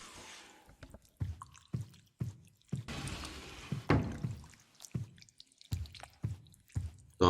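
Water drips in a Cthulhu-themed horror game, a slow run of separate soft, wet drops and thunks spaced irregularly, with a brief splashy wash in the middle, quiet and close.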